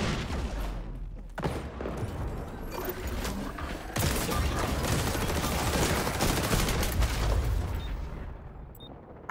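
Dense, sustained gunfire from a sniper-heavy match in the shooter game XDefiant, loud and continuous with overlapping shots and booms, briefly dipping before surging again, no voices over it.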